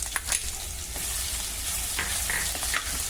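Crushed garlic sizzles in hot oil with mustard and cumin seeds, giving an even, close frying hiss with faint stirring throughout.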